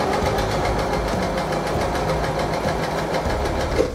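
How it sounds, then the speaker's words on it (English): A sewing machine stitches folded red fabric for a medieval flag, giving a steady, close, continuous mechanical whir and rapid needle chatter for the whole stretch, with no talk. "Machine sewing's about as easy as it gets."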